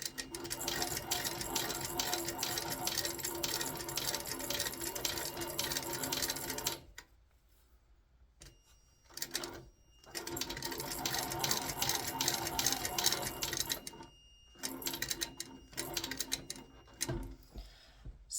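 A sewing machine stitches leather in long steady runs of rapid even clatter, pausing briefly and then starting again several times, with no talking.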